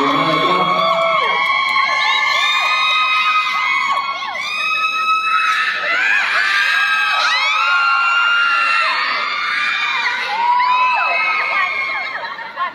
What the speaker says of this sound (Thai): ขอเสียงกรี๊ดดังๆได้ไหมคะให้กับคุณวีนเราคุณวีนค่ะ